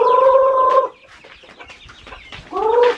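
Loud, close clucking and squawking from chickens, with a burst at the start and another at the end, separated by quieter scratchy rustling.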